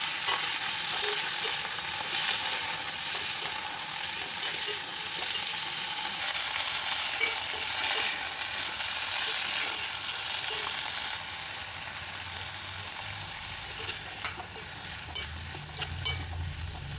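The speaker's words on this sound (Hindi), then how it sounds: "मैंने सब्जियों को हल्का सा फ्राई कर लिया।" Chopped vegetables, beans and carrots among them, fry lightly in a pan with a steady close sizzle and occasional stirring, quieter in the final stretch.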